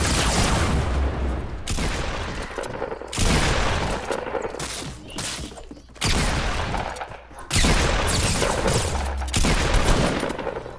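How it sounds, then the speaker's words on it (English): Fortnite combat with a bomb explosion and gunfire: loud, dense bursts of shots and booms arriving in several heavy waves separated by brief lulls, close and harsh throughout. "He threw a bomb here."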